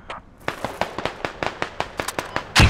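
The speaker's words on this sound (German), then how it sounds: "Ich glaube, ich hab grad Schüsse gehört bei der HEP" Rapid bursts of gunfire in a Squad-style military video game crack out in an irregular string of sharp, loud reports, ending with a heavier blast.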